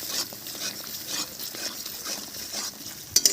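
Cashew, poppy seed and ginger paste stir-fried in oil for a paneer curry, giving a soft continuous sizzle with faint scraping and stirring taps, steady and close, ending in a few sharper utensil clinks.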